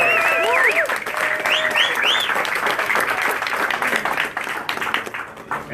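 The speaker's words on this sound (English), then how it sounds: "Let's give these guys a round of applause" A crowd applauds a brewery team at a groundbreaking event, with dense, steady clapping throughout and excited whoops and cheers rising over it near the start.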